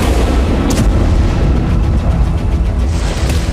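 Glide bomb explosions in Kursk make a loud, sustained, rumbling roar with a couple of sharper blasts breaking through, heavy and low throughout with no voices.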